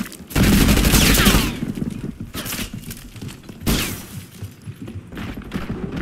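Heavy automatic gunfire in a Call of Duty: Black Ops 6 multiplayer match, loud sustained bursts with a shattering crack, then quieter scattered shots and movement before another loud burst near the end.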